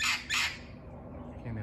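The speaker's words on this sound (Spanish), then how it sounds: "Estos son los famosos loros de California." Wild parrots squawking in California near a fruit tree, two loud harsh calls in quick succession at the start, then quieter chatter and rustle.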